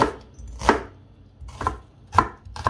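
Raw onion being finely chopped with a knife on a cutting board, four separate crisp thuds at an uneven pace, close, with quiet gaps between cuts and no talking.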